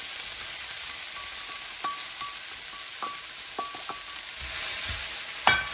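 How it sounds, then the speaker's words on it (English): Ground beef dropped into a hot pan with snow peas for a stir fry, a steady soft sizzle with scattered light clinks and scrapes of stirring, building to a louder hiss and a sharp clatter near the end. "And now I'm going to add the meat."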